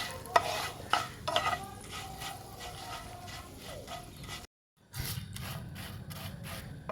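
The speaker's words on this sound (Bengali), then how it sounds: "তো আঁচটা কমিয়ে আমি কিছুক্ষণ নাড়াচাড়া করে নেবো" Hog plum peel pickle is stirred slowly in a pan over low heat, soft repeated scraping and rubbing strokes with a faint sizzle beneath, a short silent gap midway, no talking.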